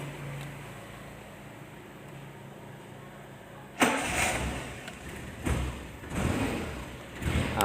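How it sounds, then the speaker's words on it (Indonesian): A Suzuki Carry Futura fitted with a solar panel sits quiet, then its engine cranks and catches abruptly, settling into a close, loud, rumbling idle with small rises in revs. "menyalakan mobilnya."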